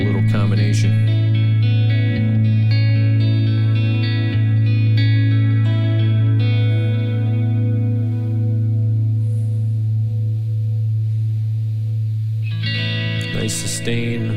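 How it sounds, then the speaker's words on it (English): Electric guitar through spring reverb and Galaxy tape echo pedals, a sustained chord ringing with echo and reverb tails, followed by a new strum near the end, loud and close. "just a little bit of the spring reverb in there, and then of course the Galaxy tape echo"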